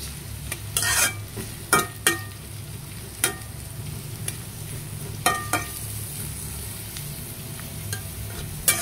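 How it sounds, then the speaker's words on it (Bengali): Chopped onion sizzles in a frying pan for cooking hilsa fish, a steady frying hiss broken by sharp scraping stirs and clacks of a utensil against the pan. "দিয়ে দিচ্ছি পেঁয়াজ কুচি।"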